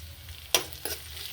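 Chopped onions dropped into hot oil for a pickle give two short, sharp sizzling bursts over a low steady kitchen hum, close and alone.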